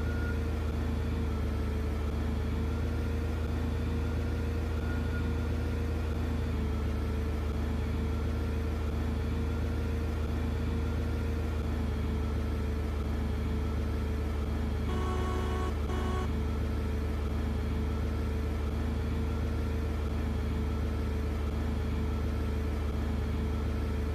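Steady low engine hum of a forklift in a VR driving simulator game, a constant idling drone with faint harmonic layers and a brief higher metallic blip partway through, no talk.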